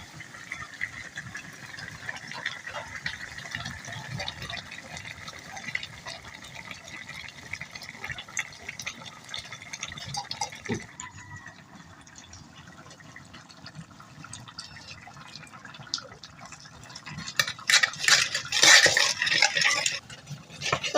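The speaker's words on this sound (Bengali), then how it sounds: "তো এবার আমি চিংড়ি মাছগুলো সব দিয়ে দিব" Prawns go into a pan for a curry with ash gourd and are stirred. Soft, close scraping and wet sizzling continue throughout and swell into brighter, louder frying near the end.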